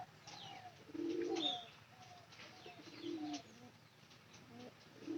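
Pigeon in a domestic loft giving repeated low coos, one longer rolling call near the start followed by shorter coos, with faint chirps in between, moderately close and without speech.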